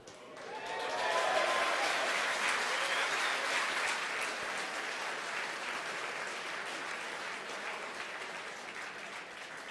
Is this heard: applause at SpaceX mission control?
yes